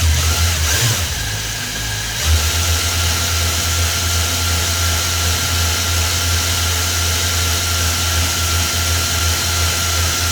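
Peter Pakula line winder running under tension, a steady motorised hum and drone that settles after a brief shift near the start, loud and close with no talk.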